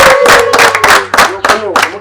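Brisk, rhythmic clapping from a group, with a high trilling ululation rising over it, loud and close.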